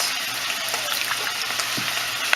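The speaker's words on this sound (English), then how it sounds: "I'm just going to use the same spatula that I was stirring the beef with, and we're just going to mix that and incorporate that" A spatula stirs ground beef filling in a frying pan, a steady close sizzle with small scraping clicks running throughout for a few seconds, no voices.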